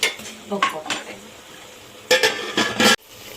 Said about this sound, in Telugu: ఇంగువ వేసుకొని కలుపుకోవాలి